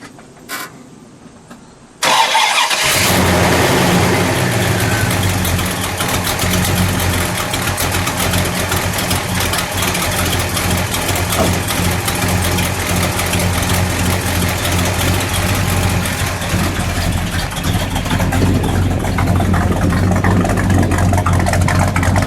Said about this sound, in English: Well, I think we need to hear this one fire.